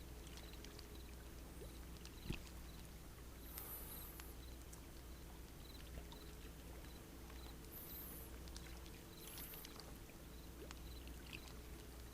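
A small indoor waterfall inside a house in the video game Second Life makes a steady, soft rushing and pattering of falling water that runs evenly throughout, with a few faint high chimes drifting over it.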